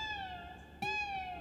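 An electric guitar's whammy bar bends a sustained note into a cat-like meow, with a second sliding, wavering tone following a sharp attack; clear and fairly quiet, no talking.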